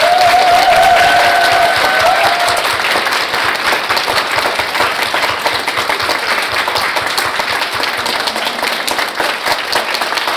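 An audience in a lecture hall gives sustained applause after a talk by Catharine MacKinnon in Korea, dense and loud with scattered cheering, holding steady for about ten seconds.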